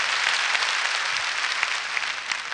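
Audience applause fills a large concert hall during a 2004 concert-spectacle, steady dense clapping throughout with no pauses, loud and close.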